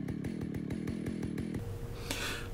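A chainsaw engine runs loud and close, chugging in a steady pulsing rhythm before the tone shifts and revs.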